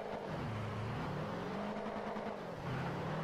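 A SWAT van's engine in Forza Horizon 2 on Xbox 360 is held at maximum revs, a steady loud droning roar with slight pitch wavering and a rise near the end, with no talk over it.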